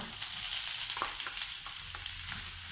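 Spinach stir-fried in butter in a pan, a steady moderate sizzle with a series of quick spatula scrapes and taps, fairly close and without voices.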